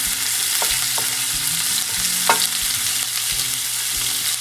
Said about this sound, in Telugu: దానిలో ఒక టూ టీ స్పూన్స్ వరకు ఆయిల్ హాఫ్ టేబుల్ స్పూన్ వరకు జీలకర్ర అనమాట జీలకర్ర ఫ్రై అవుతున్నప్పుడు చాప్ చేసుకున్న పచ్చిమిరపకాయలు